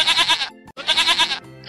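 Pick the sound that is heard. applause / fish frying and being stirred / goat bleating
goat bleating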